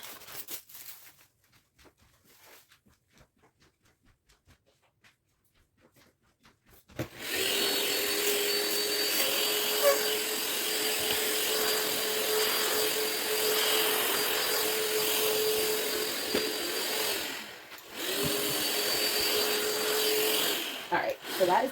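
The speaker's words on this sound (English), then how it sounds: "let me vacuum up this stuff first." A vacuum cleaner starts abruptly after a quiet stretch and runs with a steady whining drone while sucking up debris, briefly dipping once as the nozzle shifts, loud and close throughout.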